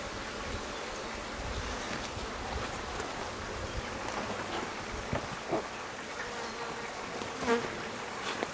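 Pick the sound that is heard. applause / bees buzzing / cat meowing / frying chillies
bees buzzing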